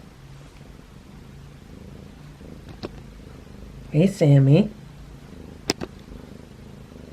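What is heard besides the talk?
cat purring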